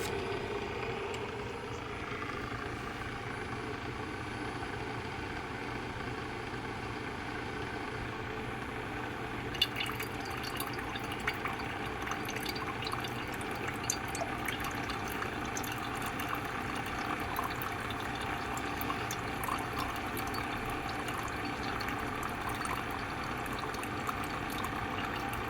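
Keurig K-Café coffee maker brewing an espresso-style shot for a latte, giving a steady pumping hum with a watery trickle. A sharper hissing, gurgling flow starts about ten seconds in and runs to the end, with no talking.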